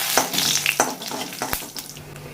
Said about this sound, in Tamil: எண்ணெய் ஊற்றிட்டேன் எண்ணெய் காஞ்சிருச்சு ஒரு துண்டு பட்டை கிராம்பு ரெண்டு சோம்பு போட்டுக்கலாம்